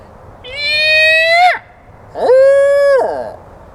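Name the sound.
person imitating an owl screech with voice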